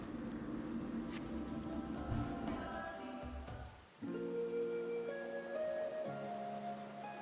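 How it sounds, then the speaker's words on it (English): Steady rain in the video game Final Fantasy XIV, a dense, even patter of drops on surfaces, faint and continuous, mixed with gentle tonal game music. "Dang, it's even raining now."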